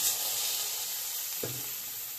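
Spiced masala with Kashmiri chili powder and turmeric sizzles steadily in a pan, and a small splash of water added near the middle brings a brief burst of hissing; no one speaks.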